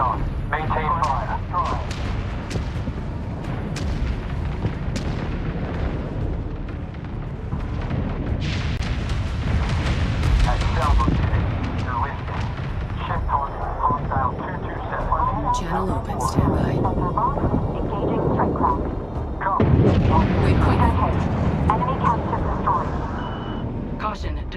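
Railgun corvette firing in the space strategy game Homeworld 3: booming, explosive blasts come in repeated waves over a steady low rumble, with radio-style voice callouts talking over the battle.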